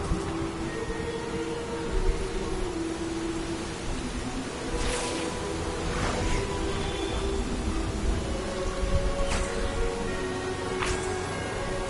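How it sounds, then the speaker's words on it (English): Steady broadband rain hiss in the video game Hogwarts Legacy, continuous and even throughout, with faint tonal game ambience and a few soft clicks layered over the constant downpour. "Rain."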